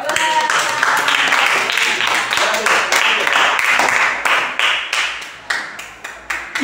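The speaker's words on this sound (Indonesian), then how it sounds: "kasih tepuk tangan lu Khairil yuk." Hands clapping in applause for a student at a school class activity, a loud dense patter of many claps that turns into distinct, separated claps toward the end, with a voice speaking over the start.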